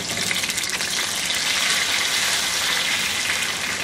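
Pointed gourd (potol) fries in hot oil in a wok, giving a loud, continuous, even sizzle with no pauses or voices.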